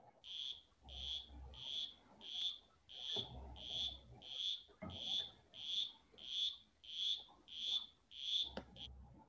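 A recorded frog call plays back as a regular series of about a dozen short, bright, buzzy notes, evenly spaced and faint, with a low murmur between some of them.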